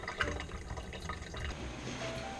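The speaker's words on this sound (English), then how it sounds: "And I fill this up with water." Water pours into a metal bottle, a faint, continuous gurgling fill with small splashes, heard alone and quiet.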